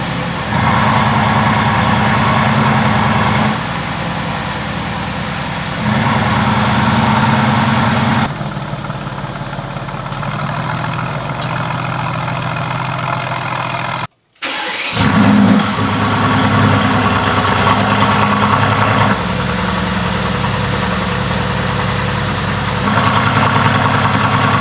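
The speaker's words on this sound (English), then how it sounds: "We're gonna turn on the car and we're gonna see if the flaps respond with the remote." A Mercedes-AMG GT S fitted with a RENNtech exhaust and valve module starts up and settles into a loud, steady idle, with a brief silent gap midway before the engine rumble resumes, with no talking.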